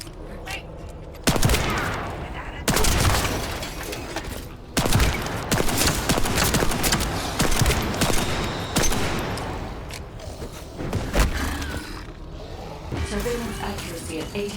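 Pistol gunfire in The First Descendant video game, sharp shots in irregular bursts and single cracks throughout, loud and close, with someone talking over the action.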